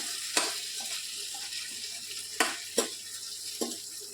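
Potato usal, a potato curry, simmering in a pan after the lid is lifted, a soft steady sizzle with a few sharp clinks and stirring knocks of a utensil against the pan.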